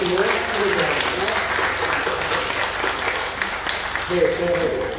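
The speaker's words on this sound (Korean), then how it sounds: "다시 한번 큰 박수로 환영해 주시고 하겠습니다" A church congregation claps warmly to welcome newly baptized children, a steady wash of applause with a voice speaking over it at points.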